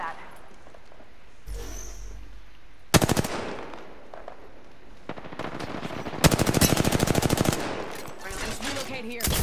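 Bursts of automatic gunfire in the Apex Legends video game, loud rapid rattling volleys with short single shots in between, interrupted by quieter gaps.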